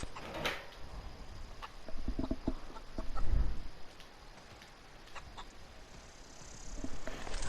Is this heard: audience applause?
no